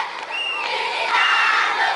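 A large crowd cheers and shouts at an outdoor May 20th national day celebration in Mbanomo, Cameroon; a loud, sustained roar of voices that swells slightly toward the end.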